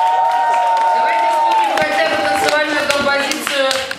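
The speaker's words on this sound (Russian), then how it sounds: "Аплодисменты." An audience at a children's summer camp awards show bursts into clapping and cheering, loud and close, a high shout over the crowd at first, then dense hand claps with some voices mixed in.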